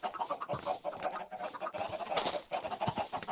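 Chickens in Minecraft Java Edition cluck and chatter in a quiet, busy stream of short calls, faint and continuous with no voices over them.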